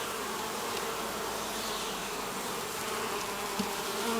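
A dense, loud swarm of honey bees drones without pause during a hive inspection, a thick close buzzing with no voices.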